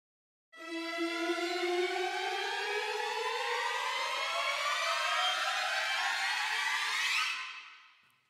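Orchestral riser effect from the Symphobia 4 Pandora sample library, a swelling tone that climbs steadily in pitch for several seconds, then fades quickly, with no other sound around it.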